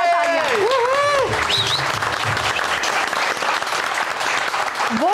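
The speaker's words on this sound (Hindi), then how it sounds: "सबके लिए जोरदार तालियां।" Loud applause fills a grand finale stage show, a dense and steady roar of clapping that carries on throughout, with a few shouts and whoops near the start.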